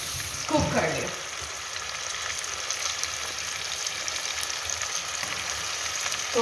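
Potatoes fry in a pan with a steady, even sizzle that holds throughout, with a brief voice near the start.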